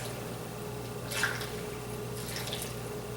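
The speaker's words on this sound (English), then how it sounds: "Okay, so we're going to try and fill up with water to the half mark." Tap water runs into an 8 litre Instant Pot, a soft, steady trickle with faint splashes over a constant background hum.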